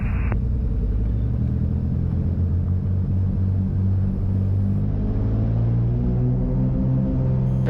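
Cessna's piston engine at full throttle during the takeoff roll, a loud, steady low drone and rumble that rises gradually in pitch as the plane speeds up, with no talk.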